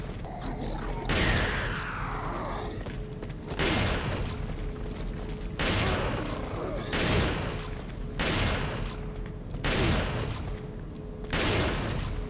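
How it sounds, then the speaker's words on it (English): Repeated shotgun blasts in the video game Resident Evil 4, loud broadband bursts roughly every one and a half to two seconds over a steady game background, with a whooshing sweep early on. "I think it's shotgun time"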